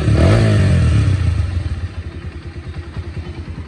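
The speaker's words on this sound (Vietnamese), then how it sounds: "anh em nghe không, đang nổ máy đấy mà rất là êm luôn" A Kawasaki KPR 125 six-speed motorcycle engine idling close by, a loud rev at first that settles into a smooth, steady low putter.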